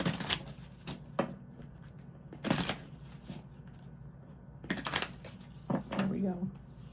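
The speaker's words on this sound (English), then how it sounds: "I'm going to do a couple more shuffles." Tarot cards being shuffled in a few quick riffling bursts, close and crisp, with quieter rustling and soft talk in between.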